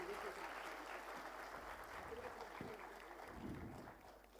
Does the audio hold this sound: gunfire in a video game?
no